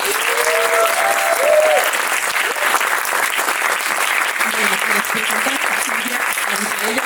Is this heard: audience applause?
yes